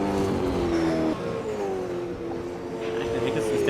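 Race cars scream past at Bathurst during a 2021 Super 2 race, their engines a loud, continuous, slightly shifting whine that fills the whole stretch.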